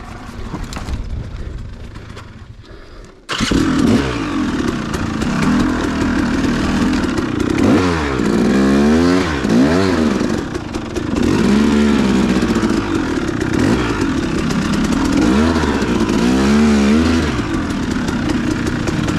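Dirt bike engine revving and droning on a trail at the Green River rally, loud and close after a sudden start, with repeated throttle swells and shifts over continuous riding noise.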